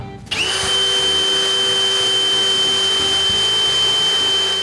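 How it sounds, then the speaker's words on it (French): Power drill driving a screw to fix a carved wooden table leg onto a scrap piece of wood, a loud, steady high-pitched whine that starts abruptly and holds unbroken, close up and alone. "je dois visser la pâte sur un bout de bois"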